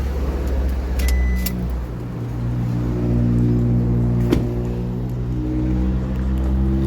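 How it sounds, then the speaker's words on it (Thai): Aftermarket power-folding side mirrors on a 2023 Isuzu MU-X Active fold automatically when the car locks, giving a steady electric motor whine that starts partway through and hums on evenly to the end. "ล็อกรถนะระบบพับ ออโต้ก็ทำงานให้เลยนะ"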